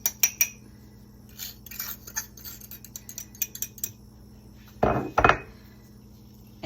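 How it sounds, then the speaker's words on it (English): Dry ingredients and sugar being mixed in a bowl for Sicilian ravazzate, heard as light scraping and clinking of a utensil against the bowl, with two louder knocks near the end. "we mix this dry ingredient"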